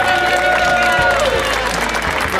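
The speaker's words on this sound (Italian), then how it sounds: "Un applauso!" Loud applause from an audience at a caving group's gathering in Frasassi, sustained clapping over a crowd with some voices and a brief tone at the start.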